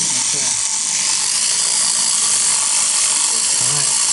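A VEX two-speed transmission runs in its low, high-torque gear, giving off a steady close mechanical whir with a faint ratcheting gear texture throughout.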